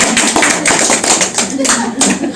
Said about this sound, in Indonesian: Nah ini benar, tepuk tangan.